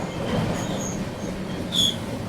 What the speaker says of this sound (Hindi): सामने से आ रही है वेरावल जबलपुर सोमनाथ एक्सप्रेस।